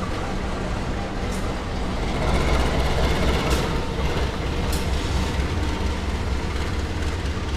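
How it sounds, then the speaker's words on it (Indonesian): A Malabar train shunting past at a station, a continuous loud rumble of rolling wagons with faint clickety-clack and occasional squeals, steady throughout with no voices. "Ini kayaknya langsiran kereta Malabar."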